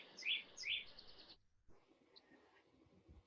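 Birds chirp faintly in the background during a spring core barre class, with a few bright tweets early on and then a softer, sparse call. The room is otherwise quiet.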